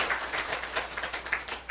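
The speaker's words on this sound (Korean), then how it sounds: "그렇게 하실 하나님께 박수 올려드립니다" Scattered clapping from a church congregation during a Korean sermon, fairly soft and uneven, with no voices over it.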